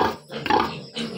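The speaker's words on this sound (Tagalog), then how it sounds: "Isang baboy oh." A pig grunts and squeals in short, close bursts at a house in a dim setting, a few rough vocal calls over about a second.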